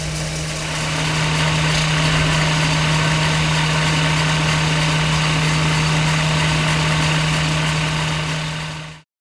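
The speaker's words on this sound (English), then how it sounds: "the engine is beautifully smooth. It's ticking over about 500 RPM" A Mercedes-Benz W107 500 SL V8 idles smoothly at about 500 RPM, a steady low hum with an even, continuous drone that holds unchanged for the whole stretch, close and fairly loud, with no voices.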